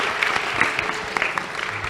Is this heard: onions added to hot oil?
no